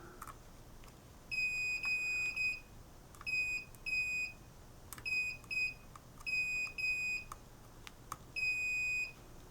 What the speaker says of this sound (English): We can test for continuity on that also.